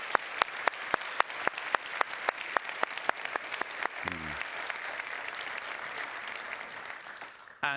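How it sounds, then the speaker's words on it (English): An audience at a carbon capture, utilisation and storage forum applauds with scattered, crisp claps that thin out toward the end, while a brief low murmur of voices rises partway through. "I think actually we should give them a hand."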